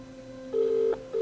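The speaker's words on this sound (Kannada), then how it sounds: "ರಿಂಗ್ ಆಗ್ತಾ ಇದೆ." Outgoing phone call ringback tone: a steady dial hum, then a long loud ring tone that stops and starts again, clear and close with no voices.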